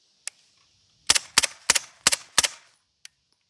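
Five suppressed MP5K-PDW submachine gun shots fire in a steady, evenly spaced sequence, each a sharp muffled crack with a short tail, framed by fainter single clicks before and after, with no talk.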